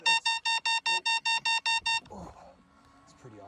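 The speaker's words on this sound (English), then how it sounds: "When you have your alarm set and you hear when the alarms go off" A bright electronic alarm beeps nine times in a quick even rhythm during an e-bike trail ride, loud and close, followed by softer rustling and riding noise.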